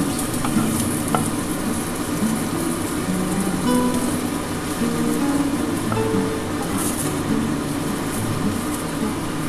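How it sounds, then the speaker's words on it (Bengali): An egg fries in a pan with a steady, close sizzle and crackle that runs without a break, broken now and then by faint scrapes and light clinks of a utensil. "আর একটা ডিম ভেজে নিলাম"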